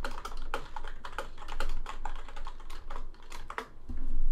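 Fingers type quickly on a computer keyboard, a close, irregular run of sharp key clicks and taps with short pauses, alone without any voices.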